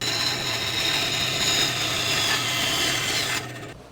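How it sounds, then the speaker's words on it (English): A bandsaw cuts through a piece of wood for a handmade movable wooden clown, giving a steady, close rasping whine that continues evenly and then drops off abruptly as the cut finishes. "now I'm going to take it to the bandsaw, cut it off here"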